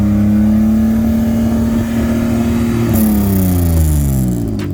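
A naturally aspirated Honda Civic EP3 with a K20 engine revs loudly and steadily at a trackside sound test, holding a high note before the pitch shifts and drops near the end, with no talking.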